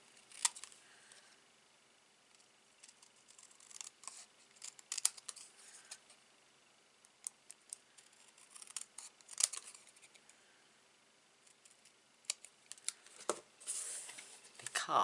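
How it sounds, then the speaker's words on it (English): Small snips cutting through card stock for a Stampin' Up! arrow card, with quiet, irregular crisp snipping clicks spaced across the stretch, close and faint. "Get my little snips. And just removing the outer."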